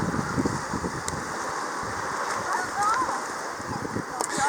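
Wind gusts across an outdoor beach setting in Corsica during a summer family paddle-ball game, a continuous blustery rush buffeting the microphone as people talk and play nearby.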